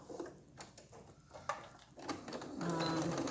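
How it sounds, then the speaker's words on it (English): A sewing machine stitches along the neckline of a lined tabard: faint handling noises first, then a steady, quiet motor whir over the last second or so. "I'm going to sew along the neckline now"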